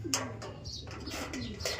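Racing pigeon cooing softly in a few short low calls, with faint chirps and light background noise, close by.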